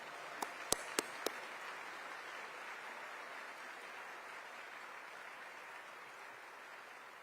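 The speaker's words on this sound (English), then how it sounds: "Round of applause for them." Steady audience applause at the 2023 Connecticut governor's inauguration, a dense wash of clapping that sits at an even level throughout, with a few sharp knocks near the start.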